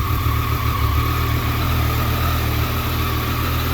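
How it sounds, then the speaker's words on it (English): A 2018 Triumph Street Triple RS three-cylinder motorcycle engine idling close by, a steady even hum with a faint whine layered on top, unchanging throughout. "it does have that triple cylinder whine"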